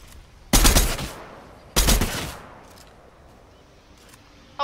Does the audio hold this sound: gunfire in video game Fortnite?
yes